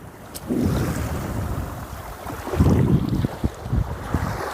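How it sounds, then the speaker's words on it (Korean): Waves breaking on the shore of Lake Issyk-Kul, a large freshwater lake, with wind buffeting the microphone; steady surf wash with several louder crashing swells in the second half, no talk. "이렇게 파도가 칩니다."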